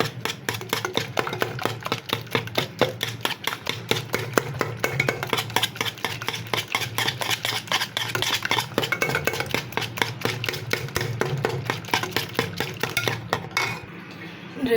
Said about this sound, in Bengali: আমি এখন ভালো করে মিশিয়ে নেব আরও কিছুক্ষণ মিশাবো আমি ভালো করে